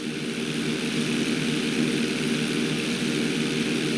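A propeller plane in Grand Theft Auto V drones steadily with a continuous engine roar, loud and close throughout, with no voices.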